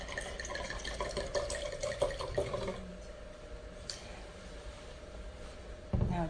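Red Saint-Emilion wine from Chateau Beaujolais poured into a glass, a close, soft trickling of liquid over the first few seconds, then faint and quiet room tone.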